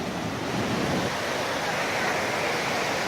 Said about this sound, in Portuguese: É que você não viu o tamanho dessa cachoeira